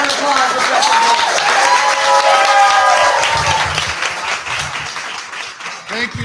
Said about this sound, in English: let's have a round of applause for Preston Blair.